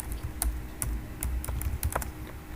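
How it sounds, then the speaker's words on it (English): Rapid typing on a computer keyboard, a quick run of clicking keystrokes close by over a low background hum. "I'm typing it in the chat box."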